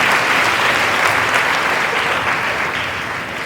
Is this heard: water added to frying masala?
no